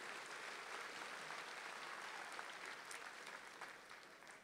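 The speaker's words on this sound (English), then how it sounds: "Would you give a round of applause, please," Audience members at a commencement ceremony applaud in a broad, continuous wash of clapping that stays even for several seconds, then begins to taper, heard from a distance in a large venue.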